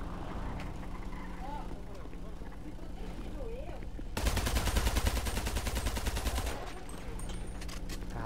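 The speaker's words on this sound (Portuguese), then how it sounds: "Aí atirou na gente" Sustained automatic gunfire in a GTA roleplay game erupts suddenly and loudly partway through, a dense rattling burst lasting a couple of seconds before easing back under game ambience and voices.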